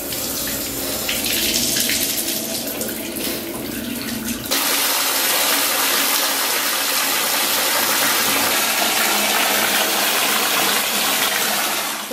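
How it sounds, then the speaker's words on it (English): Water gushes steadily from a tap into a hotel bathtub, a loud continuous rush that shifts in tone partway through as the flow changes, with no talking. "it would be rude not to run a bath"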